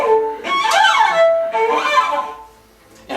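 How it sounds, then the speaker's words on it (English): Cello harmonic glissandos from a Shostakovich Cello Sonata passage: two sweeping arcs of high, whistling harmonics that rise and fall in pitch, each around a second long, played close and clear with no voices. "there's a famous passage involving harmonic glissandos in the Shostakovich Cello Sonata"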